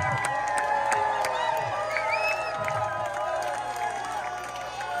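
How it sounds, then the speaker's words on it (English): Large outdoor concert crowd at Dancing under the Lights cheering, whooping and clapping after a band's set, a loud, dense, sustained roar with scattered shouts and whistles. "nice big crowd still here"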